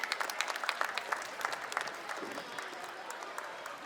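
Audience applause for prize winners at an interschool competition, a fairly quiet, diffuse patter of clapping that thins out over a few seconds, with faint crowd murmur mixed in.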